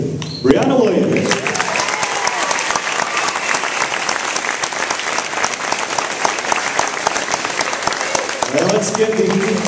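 A crowd applauds seniors at a high school senior night, sustained loud clapping across a gym that swells and holds, with a voice over a speaker briefly at the start and end.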